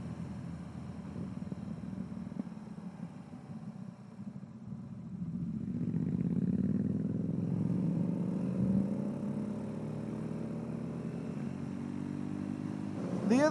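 Engine of a 2021 BMW R nineT Urban GS 40 Years or Triumph Scrambler 1200 XE motorcycle running, a steady low drone that builds and rises in pitch midway as if accelerating, continuous and fairly close.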